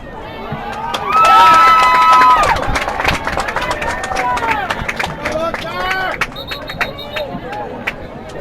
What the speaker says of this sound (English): Cheering and going on behind us for the Lone Star team